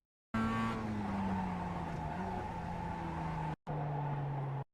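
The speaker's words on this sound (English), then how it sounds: "Engage the brakes before you reach it." A Mazda MX-5 in the iRacing simulator brakes into a corner: a steady, close engine drone with tire squeal and skidding, running alone with a brief cut near the end.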